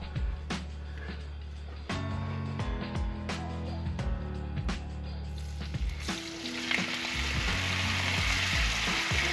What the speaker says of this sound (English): I already have my pan heated and I'm going in with the saltfish